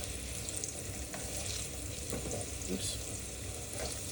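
Potatoes frying in hot oil in a pan give a steady, even sizzle that runs the whole time, with faint stirring clicks over it.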